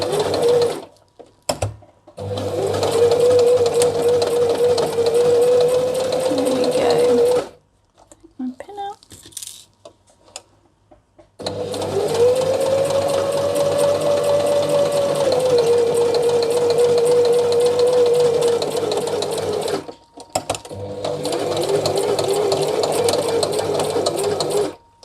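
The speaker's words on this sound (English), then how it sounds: "put some fabric or something just underneath the back of my presser foot to lift it, so that it's not struggling too much" A sewing machine stitches a fabric face mask in several long, loud runs of fast steady whirring, separated by brief pauses and small handling clicks, close up and with no talk over it.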